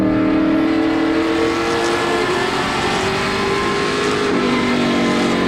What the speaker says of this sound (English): Moore chasing the car up the Speedway a little bit on exit